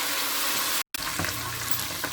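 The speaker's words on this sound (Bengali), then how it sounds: "রসুনটা আমি আর ভালোভাবে ভাজবো কিন্তু।" Garlic frying in a pan for tomato tok, a loud, close, steady sizzle with a brief cut midway and light stirring scrapes after it.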